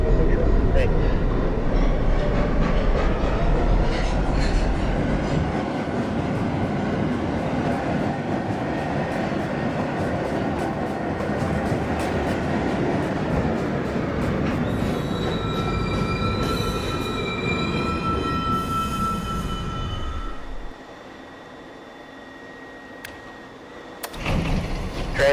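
An R62 car on the NYC subway 1 train runs loud and close, a roaring rumble with high squealing wheels that fades as the train slows and stops, then a quiet interior.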